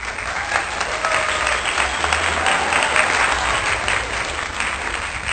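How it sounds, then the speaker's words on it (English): A group claps for Peter, dense, continuous applause that stays loud and even throughout, with faint murmuring underneath. "Peter deserves a round of applause."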